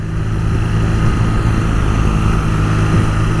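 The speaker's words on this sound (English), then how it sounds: "It's got a nice low burble to it." Steady low burble from the standard exhaust of a 2018 BMW R nineT Pure's air-cooled boxer twin, idling close by with an even, continuous rumble and no voices.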